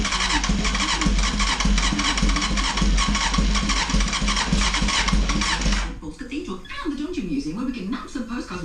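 A Honda CBR900RR Fireblade SC28 barn-find motorcycle engine cranks continuously for about six seconds, loud and close, then the starter stops and a rougher, uneven engine or mechanical sound follows.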